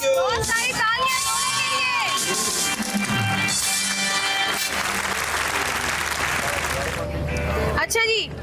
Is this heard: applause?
yes